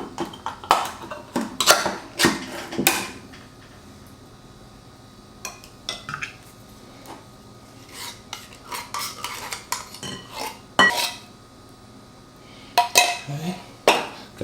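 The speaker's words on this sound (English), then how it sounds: "Give that a nice whisk." A whisk scrapes and clinks against a cast iron skillet while cheese sauce is mixed, making irregular bursts of metallic tapping and stirring that come up close, with short pauses between them.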